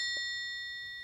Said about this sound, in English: It's a Route 66 hotel bell